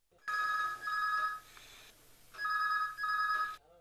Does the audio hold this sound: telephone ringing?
yes